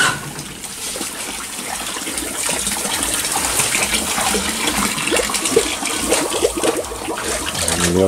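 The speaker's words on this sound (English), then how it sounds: "I'm gonna put a little more water in" Water pours steadily into a sow's pen, a continuous gushing, splashing stream that carries on for the whole stretch at a fairly close, even level.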